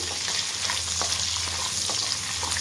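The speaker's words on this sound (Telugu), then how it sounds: "ఇప్పుడు ఆనియన్స్ వేసుకుందాం వేసుకొని కూడా కొంచెం గోల్డెన్ కలర్లోకి వచ్చేంత వరకు వేయించుకోవాలి" Onions and green chillies fry in a pan with a loud, continuous close-up sizzle and faint stirring scrapes, with a low hum underneath.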